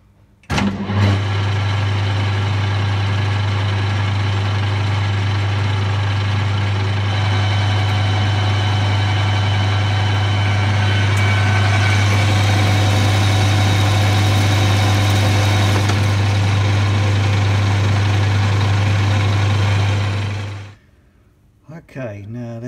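A metal lathe under power feed taking a lubricated cut, likely with a high-speed steel tool: a loud steady motor drone with strong low hum and layered harmonics starts abruptly, runs for about twenty seconds, then winds down and stops.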